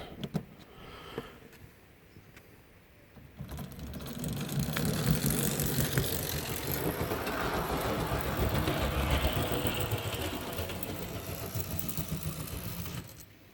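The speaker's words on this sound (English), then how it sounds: "You can hear the motor going" A small CD motor drives a model HST train on a track, rising from quiet after about three seconds into a steady whirring, rattling hum that holds at moderate loudness until the end.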